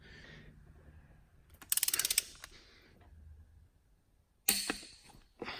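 Torque wrench ratcheting on Subaru STI engine head bolts, two short bursts of rapid clicking separated by quiet pauses, close and clear with faint background noise.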